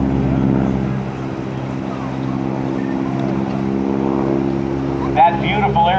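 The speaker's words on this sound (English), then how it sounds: "Listen to the sound of that engine." A propeller aircraft engine runs at a 2007 joint services open house air show, a steady loud droning hum with strong low harmonics throughout, under a public address announcer's voice, with a brief higher whine near the end.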